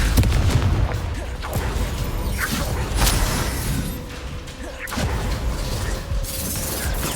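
Spell blasts from Confringo fired during combat in Hogwarts Legacy, a dense run of booming bursts and crackling impacts that keeps going without a break, loud and close, with game mechanisms clattering underneath.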